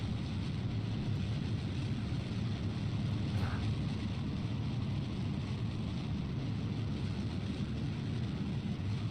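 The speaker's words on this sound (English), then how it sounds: "throttle up and get our engine going at full throttle here." A rocket engine at full throttle in the Kerbal Space Program video game, a steady, dense roar that holds constant throughout, loud and unbroken with no voices.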